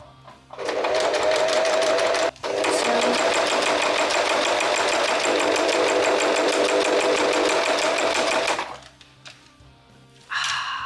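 A sewing machine stitches the edge seam of a quilted gambeson fauld for LARP gear, running loud and steady for about eight seconds with one brief pause, then stopping before a short final burst.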